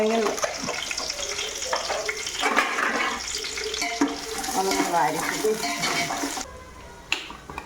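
Sliced onions and cardamom frying in hot oil in a pot for yakhni pulao, a loud steady sizzle with stirring scrapes throughout that drops off abruptly near the end.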